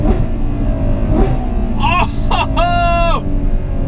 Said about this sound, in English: Now listen to that shift.